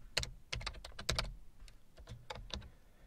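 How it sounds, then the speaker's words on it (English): Close, quiet keystrokes on a computer keyboard fall in an irregular run of sharp clicks with short pauses between bursts, with no voices. "I'll type copyright."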